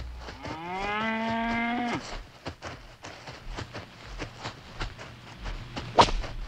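Cattle on a remote, isolated island farm give one long, loud moo, followed by scattered hoof clatter and shuffling knocks nearby.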